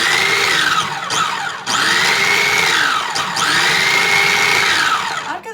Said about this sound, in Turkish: Yine robotumuzu çalıştıracağız.